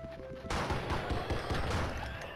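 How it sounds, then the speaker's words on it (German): A creature blows apart in the trashy horror game Blood and Bacon, a sudden loud burst at about half a second followed by a rattling, crackling rush of gunfire-like bangs that keeps going to the end. "wie ist das Vieh explodiert?"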